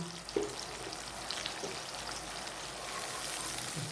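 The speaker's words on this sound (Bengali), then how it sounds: "মশলাটা কষে নিচ্ছি" A paste of ground ginger, pepper and cumin frying for a magur fish curry gives a soft, steady sizzle at low level, with a faint clink near the start and no voices.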